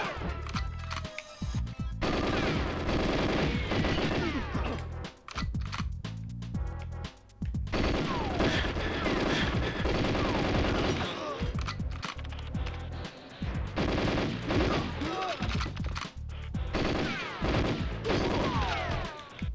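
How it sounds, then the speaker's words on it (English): Rapid bursts of video-game gunfire from GoldenEye 007, loud and repeated in long volleys with brief pauses, set against tonal game music throughout. "Gets upset that I'm firing a gun to keep her protected."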